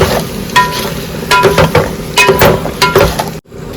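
A spoon stirs chicken biryani masala in a pot, giving loud, close scraping and clattering strokes in irregular bursts over a sizzling bed, ending in a brief drop-out.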